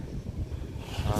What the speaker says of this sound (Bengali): আর চারিদিকে ওয়েদারটা দেখো, হালকা হালকা হাওয়া হচ্ছে যা।